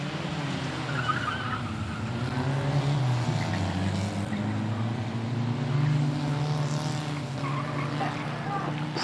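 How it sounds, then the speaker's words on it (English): Race cars circling the track at Standlake, a continuous roar of engines with shifting pitch as they pass, moderately loud, with a voice commentating over it. "Race on track now then."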